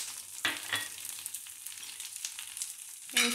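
Cumin, urad dal, curry leaves and dried red chilies fry in hot oil with a steady crackling sizzle, punctuated by a couple of sharp stirring clatters near the start and end.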